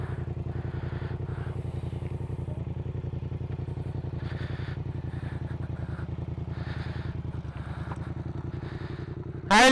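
A Yamaha MT07 motorcycle engine idles and takes light throttle near an airfield, a steady close-up rhythmic thrum with small swells, ending in a sudden short loud burst.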